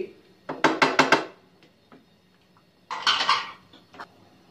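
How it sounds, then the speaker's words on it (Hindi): Ginger garlic paste and turmeric going into a pan for Lahori chicken karahi, heard as two loud bursts of close metal spoon-on-pan clatter separated by a quiet stretch. "इसमें 4 टेबल स्पून जो है वो हमारा लहसुन अदरक का पेस्ट और 1/4 टी स्पून जो था हमारे पास हल्दी"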